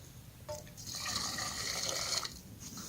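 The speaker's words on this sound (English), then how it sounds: "I'm going to start off with my larger pot and some water." Water pours steadily into a large pot at a winter camp for a couple of seconds, a close, splashing stream that starts and stops abruptly.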